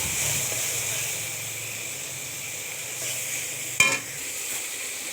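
Salt, turmeric and chili powder sizzle steadily in hot oil in a pan over medium heat, a continuous close frying hiss broken once by a brief clatter of stirring.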